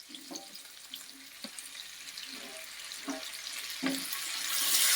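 Onions and tomatoes fry in a pan for a chicken curry, giving a steady soft sizzle with intermittent stirring scrapes and clacks that grows louder and brighter toward the end.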